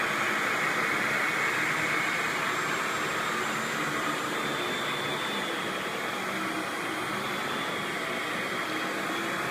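A Miele S238i Super Electronic canister vacuum cleaner runs steadily on carpet, giving a loud, continuous whooshing hum with a high whine that holds even throughout.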